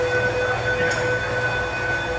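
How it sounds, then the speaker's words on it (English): A fire truck siren wails in a sustained, steady tone over a low rumbling drone, fairly loud and continuous. "the next you hear the sirens"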